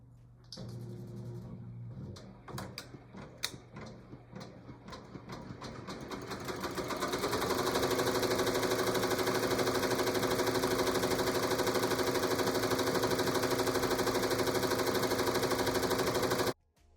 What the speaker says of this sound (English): I'm going to go ahead and click start. I'll start out slowly and then speed this part up.